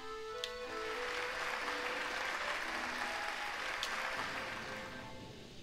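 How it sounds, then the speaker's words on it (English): In the Hollow Knight video game arena, a crowd cheers and applauds in a steady, soft wash of clapping that rises and slowly fades over several seconds. "Hear how the crowd adores you."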